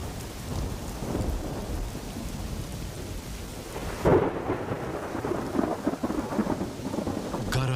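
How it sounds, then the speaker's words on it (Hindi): Thunder rumbles over heavy, steady rain pouring down across an open salt pan, a louder crack breaking in midway before the downpour continues. "गरजते हुए बादल पूरे इलाके में छा गए और फिर मूसलाधार बारिश होने लगी।"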